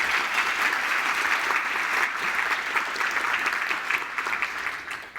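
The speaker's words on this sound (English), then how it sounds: "So I want to give a big round of applause for all teachers and mentors, but most Misono Allen in particular." Steady, full applause from a conference audience at a web design talk, a dense wash of clapping sustained at an even level throughout and tapering slightly at the end, with no voices over it.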